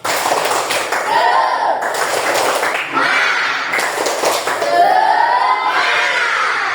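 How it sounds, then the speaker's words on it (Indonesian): A classroom of standing children performs the 'tepuk semangat' clapping chant during a coding lesson, rhythmic claps mixed with shouted chanting voices, loud and close throughout. "Tepuk semangat"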